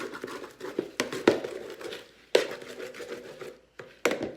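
A handheld slicer chops salad vegetables inside a bowl, giving sharp, irregular chopping strikes with quick thuds and a few louder hits spaced between brief pauses, close to the microphone.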